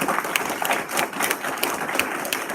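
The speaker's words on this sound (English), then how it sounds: "let's give him a round of applause" A room of members at a club meeting breaks into applause, a brisk, even patter of many hands clapping at close range, sustained throughout with faint murmurs underneath.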